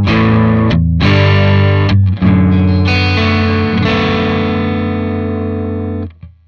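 Electric guitar played through an AMT Pangaea CP-100FX cabinet simulator and effect processor, clean and unclipped: a few loud strummed chords ringing out with long sustain, heard alone and fading after about six seconds.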